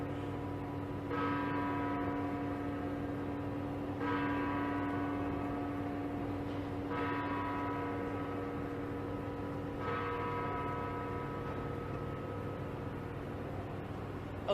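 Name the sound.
church bells ringing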